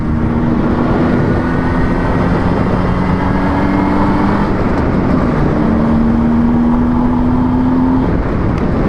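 A car cruising at 50 to 60 km/h gives a loud, steady engine hum with a drifting tonal whine and constant road rumble, no voices over it.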